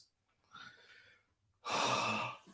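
A person yawns while watching a World Cup football match, a soft breathy intake followed by a louder, sustained airy exhale, close and alone.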